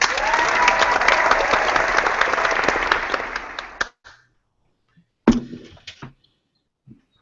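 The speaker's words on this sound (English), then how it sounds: "let's have a round of applause for Bridge Brewing" A round of applause with light cheering on a craft beer podcast, saluting a brewery's bourbon blood orange wheat ale; dense clapping for about four seconds that cuts off, followed by a brief burst of clapping and quiet.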